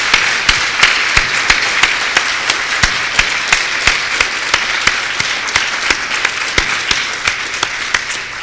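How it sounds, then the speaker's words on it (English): A conference audience applauds, steady crowd clapping with sharp individual claps cutting through, sustained evenly throughout at full strength without talk. "Can you please join me in giving these folks a round of applause?"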